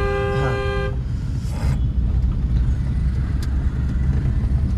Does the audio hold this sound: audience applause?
no